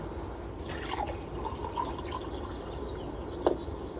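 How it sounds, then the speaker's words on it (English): Water poured into a bowl full of cotton balls, a soft continuous trickle and wet filling sound with a sharper drip near the end, close and alone. "Pour some water into a bowl full of cotton balls."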